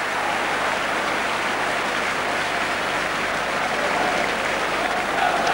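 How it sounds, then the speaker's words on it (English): Football crowd in the Shed stand at Chelsea breaks into a broad, sustained wash of applause during a Chelsea v Spurs match, steady and distant-sounding, filling the stadium evenly without a break. "So applause from the shed"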